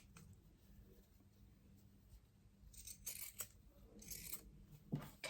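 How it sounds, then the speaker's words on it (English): Pinking shears snip through fabric during a cuff-sewing job, a few close, crisp cutting crunches clustered near the end over a quiet room, with no talking. "And I'll just take my pinking shears, if I can find them. And just cut my, you know, just make it look nice."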